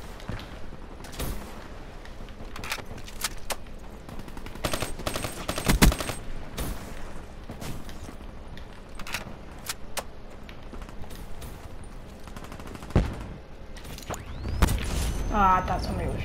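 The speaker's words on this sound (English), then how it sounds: "I thought somebody was shooting me there." Video game gunfire crackles in scattered sharp bursts and single shots, some near and loud, others faint and distant, over a low, quiet background with occasional mechanical clicks.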